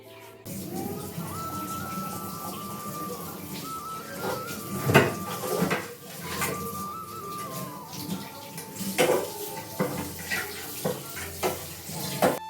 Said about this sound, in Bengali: তারপরে চলে আসলাম বন্ধুরা এই বাসন মাজতে